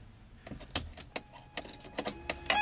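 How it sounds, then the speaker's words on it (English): A key scrapes and clicks into a car's ignition, close and quiet, with a jangle of keys and a few sharp metallic taps toward the end. "Well, let's put the key in."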